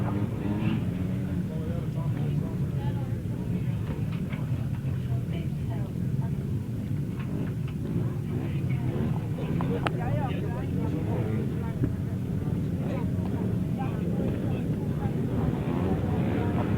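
Grasstrack racing motorcycles rev together at the start line of the 2010 Jon Underwood Trophy meeting, a dense, loud, continuous engine roar that holds steady throughout, with no break or single bike standing out.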